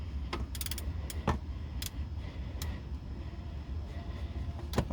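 Ratcheting wrench clicks and metallic creaks while loosening the manual transmission drain plug on a 2009-2014 Acura TSX, a few sharp ticks over a steady low hum in a garage.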